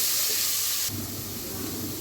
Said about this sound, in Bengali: আলুর ভিতরে লবণ দিয়ে দিয়েছি এখন একটু ভেজে নিব লবণ করে